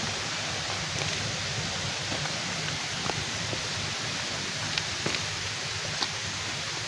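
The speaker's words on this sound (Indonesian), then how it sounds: "Air terjun buatan." Steady rushing water of an artificial waterfall at a tourist park in Lombok, a constant broadband hiss with faint splashes, even and continuous with no talking.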